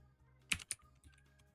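A few quick keystrokes on a computer keyboard, two sharp close clicks followed by softer taps, quiet and alone against a faint background hum.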